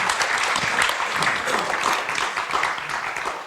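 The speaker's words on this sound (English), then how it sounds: "Give me a round of applause" Steady crowd applause fills the room at the close of an archive performance panel discussion, a dense continuous clapping that holds at an even level throughout without any talk.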